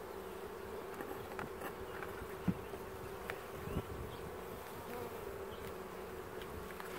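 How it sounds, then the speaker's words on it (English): Honeybees buzzing steadily during a beehive inspection, a constant low hum that stays faint, with a few soft clicks from handling the hive frames and no talking. "Well, bees are really calm today."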